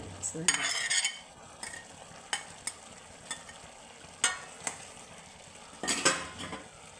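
Avial vegetables mixed with grated coconut are stirred in a pan, with scattered scraping and clinking spoon strokes against the metal over a faint background hiss.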